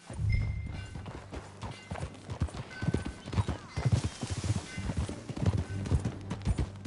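Horse hooves clip-clopping in Red Dead Redemption 2, a steady rhythmic trot of hoofbeats close by with an occasional brief whinny, continuing throughout.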